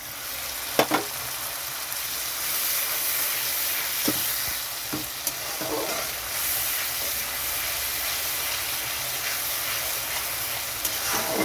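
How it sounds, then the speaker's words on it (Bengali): Fish curry gravy bubbles in a pan after water is added, a steady close hiss and simmer with a few faint clinks of a utensil against the pot. "জলটা দেওয়ার পরে ভালো মতো ফুটে গেছে ঝোলটা।"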